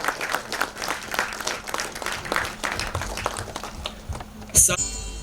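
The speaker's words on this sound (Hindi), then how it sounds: "तालियों के साथ हमारे सारे म्यूजिशियंस को स्टेज पर बुलाएं" Audience applause welcomes the musicians onto the stage at a live music release event. Dense, steady clapping fills the room throughout, with a brief louder burst near the end.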